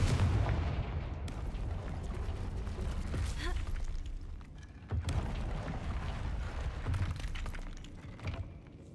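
Confringo spell explosions in the Hogwarts Legacy video game, a few heavy booming blasts with crackling debris and breaking noises between them, loud and close against a low rumble.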